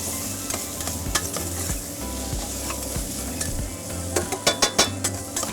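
Onions sweat and sizzle steadily in a pan while being stirred, with scraping and a few sharp clinks of a utensil against the pan near the end, close and without talk.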